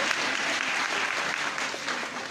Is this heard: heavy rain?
no